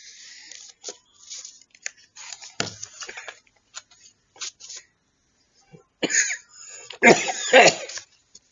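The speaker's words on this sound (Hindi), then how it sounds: "यार मुझे खांसी हो गई है।" A person coughs in several short, harsh bursts separated by quiet gaps, with a louder cluster of coughs toward the end, close and dry against a silent background.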